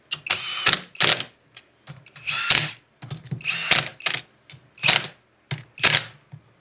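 A 3/8 ratchet spins lug nuts onto a 2004 Dodge Neon wheel in a series of sharp, close bursts of rapid clicking, about eight of them, separated by short pauses.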